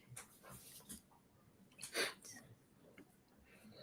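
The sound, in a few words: excited dog making noise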